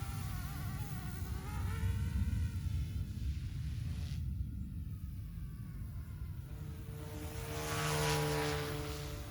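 An OMPHOBBY M2 Explore RC helicopter hovers outdoors with a steady, loud whine and buzz, its tail motor's higher pitched drone sitting over the rotor noise, swelling slightly toward the end.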